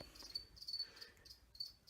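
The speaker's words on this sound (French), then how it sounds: "c'est des tout petits criquets." Small feeder crickets chirp in soft, repeated high trills with brief pauses between bursts, faint and close against quiet background, no voices.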